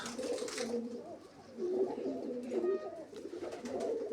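Pigeons cooing at a loft, soft repeated throaty coos rising and falling in several bouts, fairly close and quiet, with no talking.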